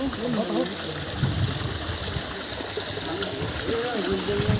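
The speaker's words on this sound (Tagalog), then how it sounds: "Umaagos dito yung tubig." Water rushes and trickles steadily in the background while people talk over it outdoors at a cave.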